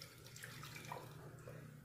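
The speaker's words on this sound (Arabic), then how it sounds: "ده مج ميه سخنه،" Hot water is poured from a mug while making strawberry jelly for a custard dessert, giving a steady, close splashing stream that lasts under two seconds with no talking.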